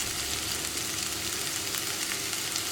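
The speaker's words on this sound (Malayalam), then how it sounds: "ഇനി നമുക്കിതെല്ലാം ചേർത്തൊന്ന് വഴറ്റിയെടുക്കാം" Brinjal pieces sauté in a hot pan for a Kerala theeyal, a dense continuous sizzle close up with faint stirring, no talking.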